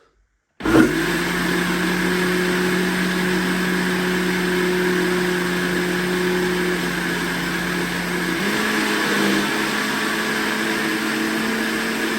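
A blender whirs steadily and loudly, mixing raw carrot cake cream with melted coconut oil. The motor starts abruptly and drones at an even pitch, then shifts slightly lower partway through and runs on without talk.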